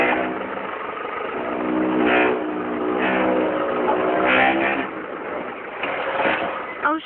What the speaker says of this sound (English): we're four wheel driving.